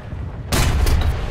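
A tank cannon firing in the video game War Thunder: one heavy, loud boom bursts out after a low background rumble and rolls on with a sustained roaring tail.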